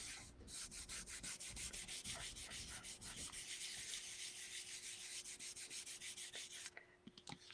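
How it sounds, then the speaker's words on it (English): A small silicone tool rubs steadily back and forth in fast, even strokes, soft and close, with a faint hum underneath, before the strokes thin out and stop near the end. "Bring in my little silicone. Just give it a good little rubbing."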